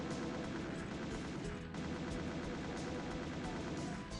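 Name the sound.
chaingunners firing in Doom video game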